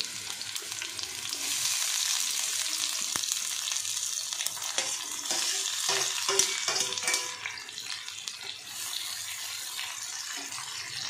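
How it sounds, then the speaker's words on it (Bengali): Sliced onions for home-made ilish biryani fry in hot oil, giving a continuous hissing sizzle with occasional soft stirring clicks; even and moderately loud, with no talking. "আমি বেরেস্তাটা এবার ভেজে নেব।"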